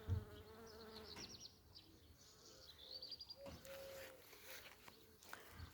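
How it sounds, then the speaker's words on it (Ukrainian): Bees buzz around flowering catmint in a garden, a faint, steady outdoor hum with occasional thin bird chirps and soft rustling, no voices over it. "Дивіться, пчілки літають, нектар збирають."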